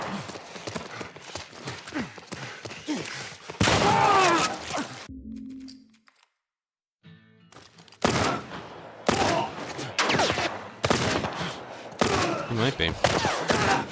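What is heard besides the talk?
gunfire from a video game, The Last of Us Remake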